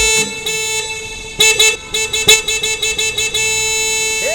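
Car horns blare loudly in a traffic jam, a long held honk giving way to a rapid run of short repeated toots from close by, with no talk over them.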